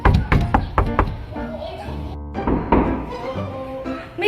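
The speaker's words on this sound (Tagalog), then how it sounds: "May kumakatok na naman." Several sharp knocks on a house door come in quick bursts, loud and close, with a person talking and muttering around them in a home setting.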